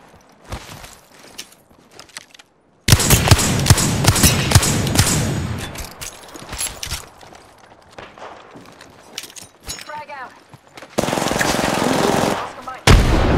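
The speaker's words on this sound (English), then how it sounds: "They're getting shot by another team." Gunfire in the battle game Apex Legends, with bursts of rapid automatic shots in dense, loud stretches broken by quieter gaps of footsteps and clatter, and a person talking in between.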